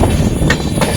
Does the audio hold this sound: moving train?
yes